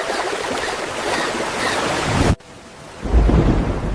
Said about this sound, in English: Will the rain ever stop?